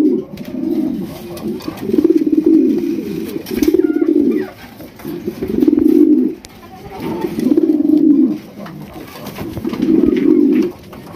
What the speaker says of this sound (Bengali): এখানে রয়েছে আরো এক জোড়া হেলিকপ্টার কবুতর মাশাআল্লাহ, দেখেন একদম বড় সাইজের মধ্যে। যে ডাকে কিভাবে দেখেন